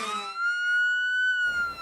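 An ambulance siren wails in a single sustained, steady tone at close range, its pitch holding level for about a second before background noise rises.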